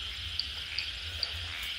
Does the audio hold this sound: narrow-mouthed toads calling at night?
yes